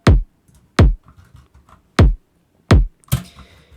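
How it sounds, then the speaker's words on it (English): A basic kick drum sample for a hip-hop trap beat thumps alone, with four evenly spaced, deep, punchy hits and a fifth that trails into a brief noisy tail. "The kick sounds like this."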